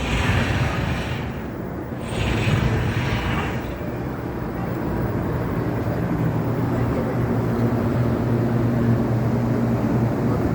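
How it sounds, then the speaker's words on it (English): A jet airliner departs over the Las Vegas Strip near the Forum Shops and the Mirage, its low, steady rumble spreading through the whole stretch beneath outdoor street ambience. "Jet leaving out."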